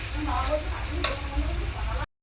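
Cut potatoes hitting hot masala in a pan for spicy ghugni made with matar and kabuli chickpeas, giving a continuous close sizzle and frying crackle with a few sharp clinks from stirring, ending in a brief silence.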